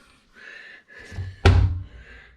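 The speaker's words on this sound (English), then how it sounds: "self-closing cabinet." A self-closing cabinet door in the kitchen of a Fairmont tiny house on wheels swings shut and lands with a single soft thunk, preceded by brief rustling and handling sounds close by.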